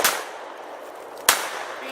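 Two sharp pistol shots from reloaded ammunition crack close and loud, spaced about a second apart, each with a brief ringing decay in an outdoor setting.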